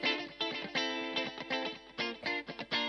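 Music played through a delay effect being adjusted on an SSL UF1 DAW control surface; a repeating, distorted melodic line with rhythmic echoing pulses, close and steady, no talking.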